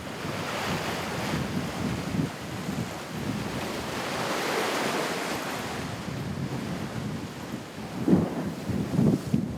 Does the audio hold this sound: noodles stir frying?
no